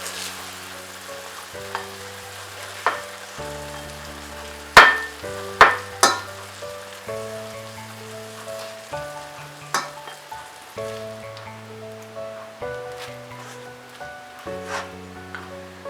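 Tomatoes cook uncovered in a pan with a soft, steady simmering sizzle, broken by several sharp clicks or knocks and occasional light stirring sounds.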